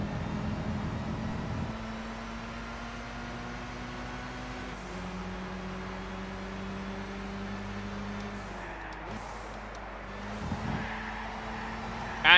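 A Mazda RX-7 engine in Gran Turismo 6 hums quietly and steadily, its pitch stepping down and rising again as gears shift, with a faint thump near the end.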